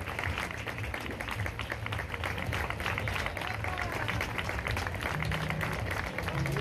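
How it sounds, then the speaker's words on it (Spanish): Dense crowd applause for two young women receiving sashes at a festival ceremony in Elche, steady and continuous throughout, with voices murmuring underneath. "Un aplauso para Paula y Julia."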